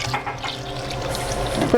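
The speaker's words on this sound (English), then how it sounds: "we're gonna add a cup of water" Water from a tap pours into a pan on the stove, a steady splashing trickle for about two seconds as a cup of liquid is added to a béchamel sauce for zucchini.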